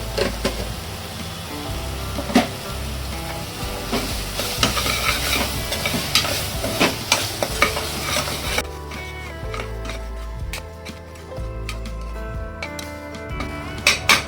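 Spice masala with a teaspoon of salt is stirred as it fries in oil for a Maharashtrian val (field bean) curry, a steady sizzle with repeated scraping and clinking of the spoon against the pan, close and continuous, with music running underneath.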